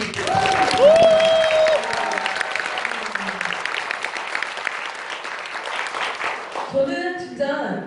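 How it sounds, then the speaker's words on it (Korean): An audience of business owners at a product briefing gives a round of clapping that starts strong and thins out, with a voice and a brief tone heard over it. "나한테만 박수를 한번 더"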